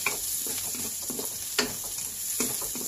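Spices sautéing in a hot pan for a dish of shells cooked in coconut milk, a steady close sizzle and frying crackle with occasional stirring scrapes, no talk.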